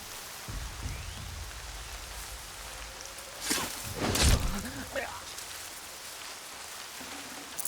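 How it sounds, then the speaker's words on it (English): Steady rain falls throughout a rainy scene in the video game Horizon Zero Dawn, a constant soft hiss with a few louder bursts and rustles midway, while a voice speaks briefly. "More rain. My boots will get damp."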